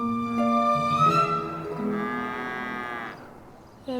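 A cow moos in a long, loud, drawn-out call with a rising and falling tone, alone on a farm with no talking, followed by a brief fainter sound at the end.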